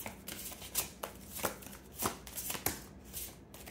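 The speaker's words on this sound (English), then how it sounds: "one more shuffle" Tarot cards being shuffled by hand, a run of papery riffles and soft slaps in an irregular rhythm, close and fairly quiet with no voices.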